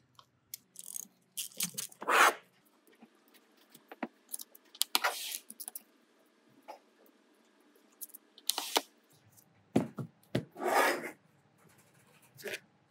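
A 3/16-inch Allen key backs out the two screws holding the valve plate on a Sterlitech benchtop pump head, giving quiet, scattered scrapes, rasps and metallic clicks in short separate bursts with silence between.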